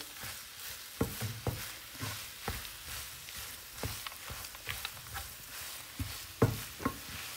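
Carrot halwa with cardamom and butter being stirred in a pan: soft scraping and stirring strokes with faint sizzling underneath, irregular and fairly quiet, with occasional sharper knocks.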